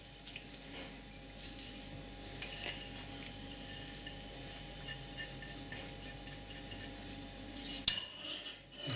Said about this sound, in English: Stir in, let it melt into the sauce.